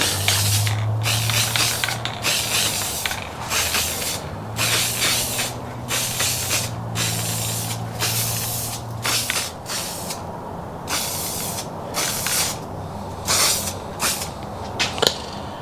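Loud, steady hiss of an aerosol spray paint can in repeated long bursts with brief gaps, close up, with a low mechanical hum underneath early on.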